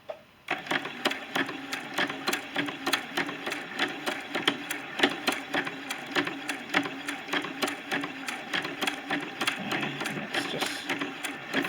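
A sewing machine runs steadily, stitching a quilt label in a fast, even mechanical rhythm, close and continuous for the whole stretch without talking.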